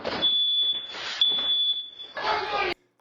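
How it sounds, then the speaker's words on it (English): A house alarm blares indoors, a loud sustained high-pitched electronic beeping tone that runs on while people speak over it. "Now the alarm's going off."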